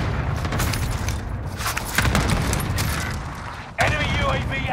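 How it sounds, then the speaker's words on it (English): Airstrike explosions in a first-person shooter match crash in as loud, continuous booming blasts with rattling gunfire-like bursts and a sharp new blast near the end, while a voice talks over the action. "Here's the airstrike."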